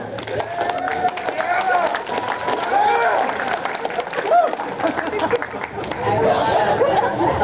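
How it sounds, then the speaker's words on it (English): A crowd at an anime convention Q&A panel claps in scattered, loosely timed claps over steady audience chatter and murmuring, continuing throughout. "Oh, good. The slow clap."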